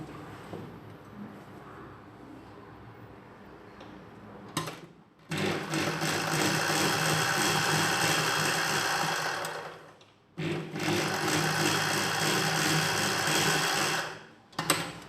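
A sewing machine stitches a seam on a nighty, running in two long steady bursts of fast whirring with brief pauses between, close and fairly loud, with quieter rustling beforehand.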